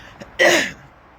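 A single harsh cough bursts out after a brief catch of breath, then fades quickly into quiet.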